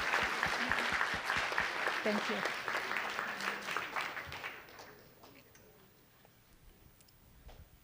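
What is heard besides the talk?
audience applause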